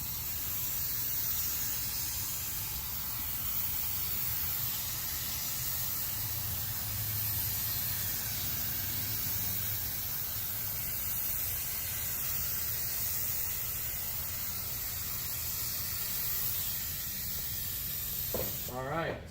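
Liquid Concepts activator misted over hydrographic carbon film floating on water, a steady broad spray hiss running almost unbroken for about eighteen seconds, with a faint low hum beneath it.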